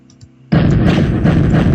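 Weapon fire in a Greenfoot space shooter game starts abruptly after a faint electronic lead-in, turning into a loud, dense, sustained rumble of shooting and blasts.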